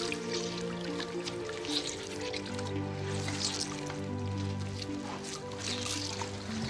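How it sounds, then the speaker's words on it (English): Blanched greens are squeezed by hand to press out the water, giving soft, repeated drips and trickles under steady background music. "the greens are rinsed repeatedly and thoroughly squeezed to remove excess moisture"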